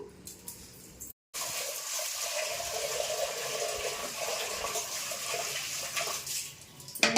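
Lentils (dal) are rinsed in water for drumstick sambar: a steady, close rush of running, splashing water that cuts out for a moment near the start, then continues evenly to the end.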